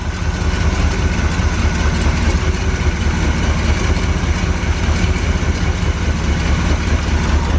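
Suzuki-free note aside: a Corvette engine idles steadily nearby, a continuous low rumble with a rapid, even pulse of cylinders firing throughout, no voices.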